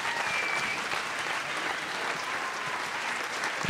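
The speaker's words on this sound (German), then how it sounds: "spendet ihm deshalb einen netten, netten Applaus" Sustained audience applause at a poetry slam, a dense, even wash of many hands clapping at steady loudness for several seconds, heard from within the hall with no talking.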